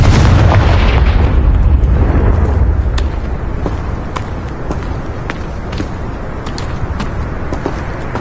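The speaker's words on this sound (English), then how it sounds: "Confringo." In a Harry Potter video game, a Confringo blasting spell goes off with a loud, deep explosion whose boom fades gradually, followed by scattered sharp crackles and debris pops.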